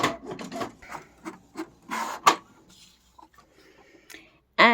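Inkjet-style printer running a double-sided job on A5 planner inserts, giving a series of mechanical whirs, rasps and paper-feed bursts with short pauses between, ending in a sharp clunk.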